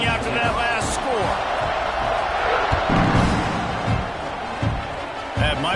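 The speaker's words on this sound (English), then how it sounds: "this crowd is buzzing after that last score" Stadium crowd in a college football video game, a loud continuous roar and buzz under a commentator talking, with occasional thuds and bumps.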